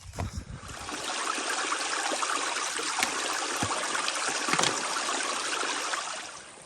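Creek water at Jackson Creek on the Superior Hiking Trail in Minnesota flows steadily, a close, even rushing and babbling that fills the whole stretch with no voices.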